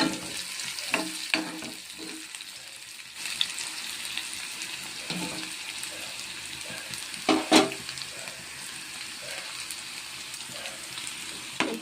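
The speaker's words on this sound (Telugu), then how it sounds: "ఆనియన్స్ లైట్గా వేగినా చాలు" Onions with tempering spices frying in a pan while cooking an okra and prawn fry, a continuous sizzle with occasional stirring scrapes and a few louder crackles, no speech.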